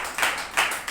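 A church congregation at an Easter service claps hands in a brief burst of a few quick claps, fairly soft and slightly distant, with no talking over it.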